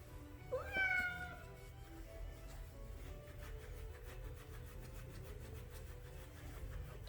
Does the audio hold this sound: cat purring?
yes